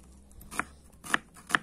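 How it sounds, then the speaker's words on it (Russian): Three sharp knife chops through onion on a cutting board, spaced unevenly, each a crisp thunk over a faint, quiet background. "начинаю нарезать лучок"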